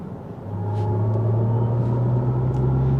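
Artificial driving sound of a 2023 Mercedes-Benz EQE 500 SUV on its Silver Waves setting, a smooth synthetic hum that swells in after a moment and holds a steady low tone inside the cabin, without talking.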